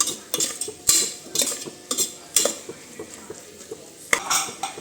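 A spoon stirs mixed vegetables, tomato, onion and garlic, in a metal pan after salt goes in, giving repeated sharp clanks and scrapes in an irregular rhythm over a faint sizzle.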